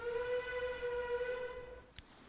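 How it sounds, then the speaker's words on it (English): A sustained multi-tone train horn sounds in the Steel Artery game, holding steady for nearly two seconds before cutting off, followed by a brief click or knock. "That's a train horn."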